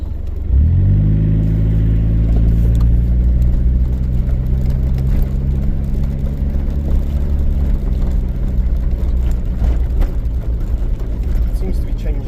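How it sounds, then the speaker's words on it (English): A car pulls away and drives on while in D, with a loud, steady engine drone that rises early and then holds through gear changes, heard from inside the cabin. "It seems to be changing gear fine, like in just in D and drive."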